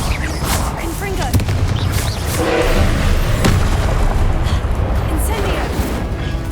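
Booming spell blasts from the Confringo fire spell in the video game Hogwarts Legacy, dense and continuous with thuds and bursts layered over game music and a voice speaking throughout.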